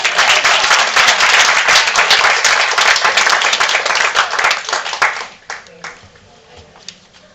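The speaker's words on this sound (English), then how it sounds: "will clap for that." A graduation audience claps loudly and densely for about five seconds, then the applause thins into scattered claps and fades out.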